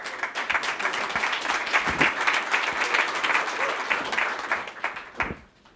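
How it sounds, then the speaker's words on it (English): An audience at a 1MC Kansas City event gives a round of applause as panelists are welcomed onstage, with close, crisp claps holding steady before quickly tapering off at the end. "Let's give them a round of applause."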